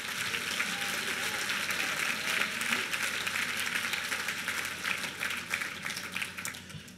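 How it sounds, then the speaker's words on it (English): Sustained audience applause at a National Design Awards gala, a steady dense wash of clapping from a large crowd heard at a moderate distance, with no talk over it. "Let's give another round of applause for the award winners of the past 20 years"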